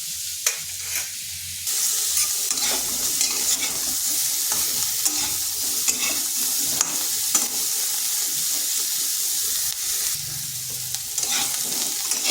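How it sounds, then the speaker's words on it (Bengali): Cauliflower fries in oil in a pan, giving a steady loud sizzle with intermittent stirring scrapes throughout, no voices. "এদিকে কপিটাও ভাজা হয়ে গেছে,"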